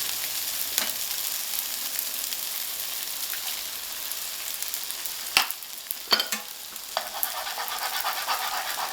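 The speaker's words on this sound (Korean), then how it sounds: "밥이 어느 정도 볶아졌다 싶으면 가운데를 비우고 계란을 하나 깨서 넣은 뒤에 잘 풀어준다." Fried rice sizzles in a pan with a cracked egg stirred through, a soft steady crackling hiss broken by a few sharp knocks and scrapes of a utensil against the pan.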